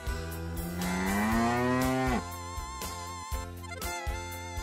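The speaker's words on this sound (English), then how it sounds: "Cow!" A cow gives a single long, loud moo lasting about two seconds, rising then falling, with cheerful background music continuing afterward.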